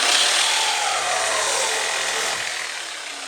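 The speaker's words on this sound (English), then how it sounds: "So we're going to use the Sawzall and get after it." A Sawzall reciprocating saw cuts holes in the frame of a Jeep Grand Cherokee ZJ to make room for bumper supports, a loud steady metallic buzz that holds for a few seconds before easing slightly near the end.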